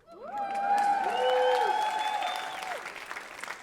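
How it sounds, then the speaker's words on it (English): An audience at a team retreat opening session applauds loudly, with long rising whoops and cheers over steady clapping that gradually thins toward the end. "you can cheer for her"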